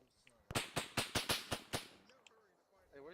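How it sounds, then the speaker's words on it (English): Gunfire during Marine fireteam training: about eight evenly spaced sharp shots in a quick series, a little distant, with voices faintly around them. "Stop shooting at me."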